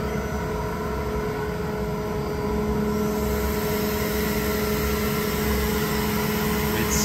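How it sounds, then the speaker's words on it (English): A 2014 Kaeser ASD 50 T SFC screw compressor runs with a steady, loud mechanical hum and whine, continuous and unchanging, with no voices. "So it's 2014 compressor."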